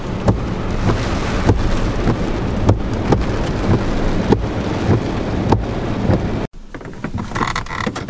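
Steady rain pours with sharp crackling bursts of thunder breaking through at intervals, then the downpour drops off abruptly near the end.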